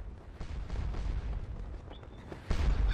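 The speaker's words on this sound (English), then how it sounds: "artillery is firing" Artillery firing in Scourge of War: Waterloo during the Battle of Ligny, faint distant cannon thumps and rumbling booms rolling one after another, a stronger report near the end.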